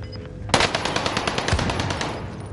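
Rapid automatic gunfire in Call of Duty: Warzone, a sustained burst of loud, close shots rattling in quick succession after a brief quiet start, with no talking.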